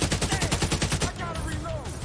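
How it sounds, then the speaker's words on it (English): Rapid automatic gunfire in The Division 2, a fast, even burst of loud shots lasting about a second, then stopping to leave background game noise and a faint voice. "Firing on target!"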